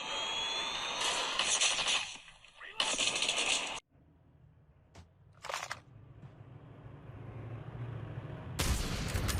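Gunfire in a mobile shooter game played on an iPhone 16 Pro Max, bursts of rapid shots and loud blasts that break off into quieter stretches, with a short crack in the middle and a player's voice talking over it.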